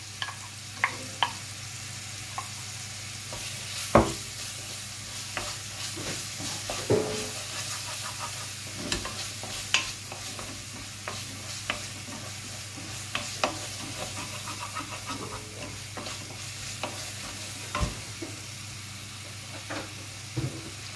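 Onion frying in a pan with ginger, green chili and garlic paste, stirred steadily: a continuous soft sizzle and hiss with scraping spoon strokes and occasional sharper clinks, fairly quiet and close, no talking.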